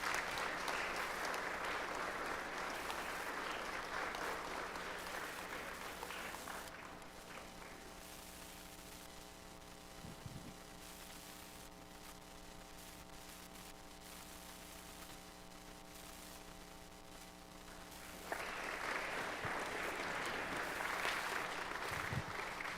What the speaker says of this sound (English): can I get another round of applause for Levi?